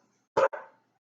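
A dog indoors at home gives two quick, sharp barks close to the microphone. A third bark cuts in at the end, with silence between them.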